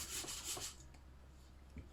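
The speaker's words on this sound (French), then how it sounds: "Je viens avec une corne simplement racler les bords de la cuve pour avoir tous les ingrédients qui viennent se mélanger" A plastic dough scraper scrapes the sides of a mixer bowl holding pastry dough. Two or three quick, soft rubbing swipes come close by, then a faint, quiet scuff follows.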